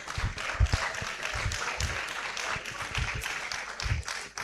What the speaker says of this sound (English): So with a resounding round of applause.